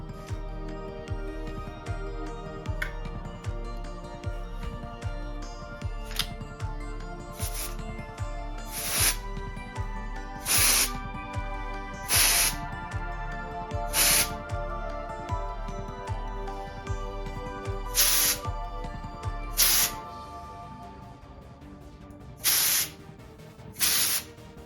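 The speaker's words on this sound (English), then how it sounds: "a fully untethered wearable spray bracelet, which you can fill with your fluid of choice" Short bursts of hissing spray come from a fully untethered wearable spray bracelet filled with fluid, repeated at irregular intervals over a steady pulsing musical backing, with no talk.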